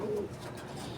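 A racing pigeon coos once, a short soft throaty note close by, fading into quiet background hiss in a loft.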